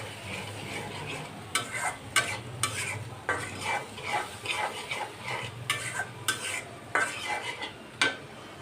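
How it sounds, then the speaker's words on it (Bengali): Spice masala with salt being stir-fried in a pan, the spoon scraping and clacking against the pan in repeated, irregular strokes over a soft background sizzle, fairly quiet and close, with no talking. "লবণ দিয়ে আরও কিছুক্ষণ মশলাটাকে কষাবো"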